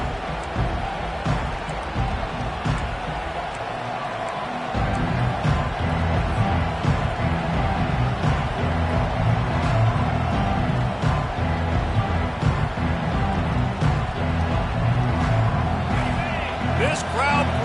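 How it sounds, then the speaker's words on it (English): Crowd noise fills a college football stadium during a game against Iowa, a loud, steady roar that swells after the first few seconds and holds under a commentator's voice. "This crowd bringing the energy and noise early."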